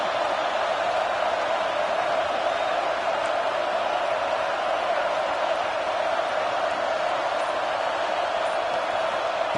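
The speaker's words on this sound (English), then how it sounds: "listen to this crowd noise. This stadium is vibrating." Dense, steady roar of a packed stadium crowd at a football game, loud and continuous throughout with no breaks, the noise filling the space evenly.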